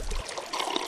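Water trickles softly and steadily in the wilderness of the Miasmata video game, a thin continuous dribble that stays close and gentle.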